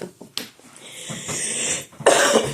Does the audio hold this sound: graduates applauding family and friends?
no